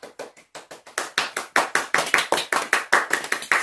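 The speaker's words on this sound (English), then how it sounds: "Clap." Hands clapping in a home kitchen after baking cupcakes, a series of close, sharp claps that start sparse and quicken into a brisk, uneven round from a small group.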